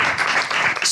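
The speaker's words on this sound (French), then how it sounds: "on vous applaudit très, très, très chaleureusement" Audience applause at the close of a French literary audio event, dense clapping filling a short burst, close and loud with no voices.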